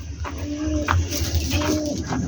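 Pigeons, a mated black checker pair with a chick, coo softly and repeatedly at close range, low throaty calls over a steady background hum.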